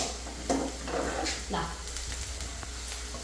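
Liver frying in a pan for a home beef cooking session, a steady close sizzle and hiss with a few stirring scrapes running throughout.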